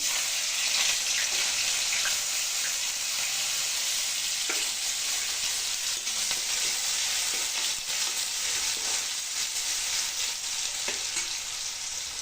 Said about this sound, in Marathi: आता मी जिरे मोहरी टाकत आहे